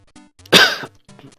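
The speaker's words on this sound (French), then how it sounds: "Pardon pour la toux." A single sharp, close cough, brief and loud, set between quiet breaths and soft throat sounds.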